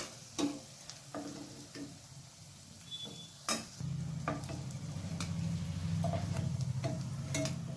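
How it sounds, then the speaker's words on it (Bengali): Rohu fish koftas frying in oil, with a few utensil clicks and taps before a steady, moderately loud sizzle builds up and carries on to the end. "এরপর বাকি কোপ্তাগুলো আমি এরকম করে ভেজে নেব।"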